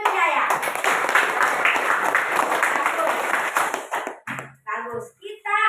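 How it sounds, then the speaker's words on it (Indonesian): A classroom group claps hands together in a dense, loud, close burst lasting about four seconds, then it breaks off as voices begin speaking. "Tepuk tangan untuk saya."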